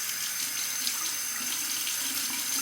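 A safety razor being rinsed under a running tap, a steady close splash of water flowing into a sink for the full few seconds, with no voices.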